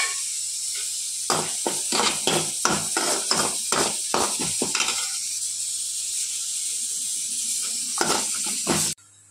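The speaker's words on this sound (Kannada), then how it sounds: "ನಂತರ ಇದಕ್ಕೆ ಕಡಲೆಬೇಳೆ ಎರಡನ್ನೂ ಜೊತೆಯಲ್ಲಿ ಸ್ವಲ್ಪ ಬ್ರೌನಿಶ್ ಆಗೋವರೆಗೂ ಫ್ರೈ ಮಾಡ್ಕೊಳ್ಳಿ ಚೆನ್ನಾಗಿ" Chana dal and urad dal frying in a pan, steady sizzling broken by a rapid series of sharp scraping stirs, then a pause before two more scrapes.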